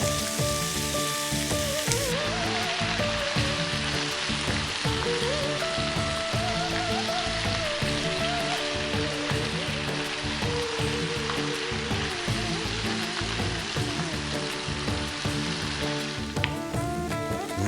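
Rice with potatoes fries in a pan over steady heat, a dense continuous sizzle and crackle, close and loud, with faint scraping as it is kept moving.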